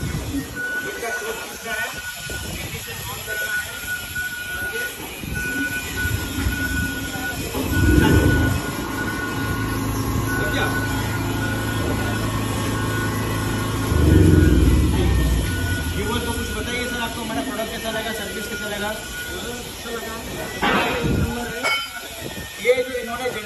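A 5 kVA single-phase generator set with recoil start runs with a steady droning rumble and a faint high whine, loud and close, while people talk over it.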